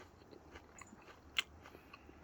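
Extra-toasted crunchy food bitten and chewed close up, with soft irregular crunches and one sharp crackling bite, faint overall with no talking.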